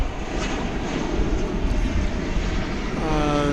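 An American Airlines Boeing 787-9 Dreamliner jet at DFW Airport gives off a continuous, moderately loud engine roar and rush of air, with a faint voice at times.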